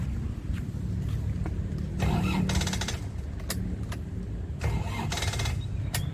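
A 2002 Isuzu Panther Touring has its engine started, a starter cranking in short bursts over a low idle rumble, close and fairly loud with no one talking.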